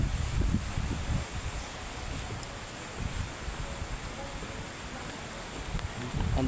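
Strong wind buffets the microphone in a continuous rumbling roar during flooding weather, with gusts swelling and easing throughout; no voices.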